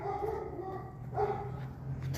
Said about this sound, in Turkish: Ya şu köpek neden ağlıyor?